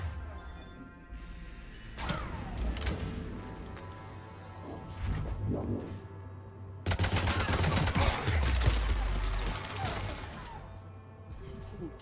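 Armored turrets firing in the video game Mass Effect 3, with dense, loud bursts of gunfire and crashing impacts that come in waves and swell into a heavy, sustained barrage in the second half.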